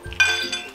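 A metal spoon gives a quick bright clink against a pot while meatballs are shaped into boiling water, one short knock followed by a faint second tap.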